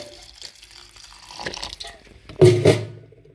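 Water splashes briefly into a vessel of soaked rice and urad dal, a short loud pour near the end after quieter kitchen sounds.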